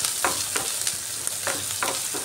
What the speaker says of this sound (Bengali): হিং দিয়েও একটু সময় নিয়ে খুব ভালো করে পেঁয়াজ, রসুন, আদাটাকে এইভাবে ভেজে নিচ্ছি।